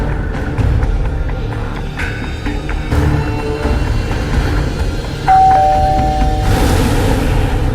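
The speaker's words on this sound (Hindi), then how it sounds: "मैं डोरबेल बजाता हूं" A doorbell rings once with a clear sustained electronic tone near the end, following knocks and thuds over a steady indoor hum.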